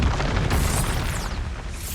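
An Expulso spell detonates in Hogwarts Legacy, a loud booming blast with rumbling low-end debris that rolls on and fades over a couple of seconds.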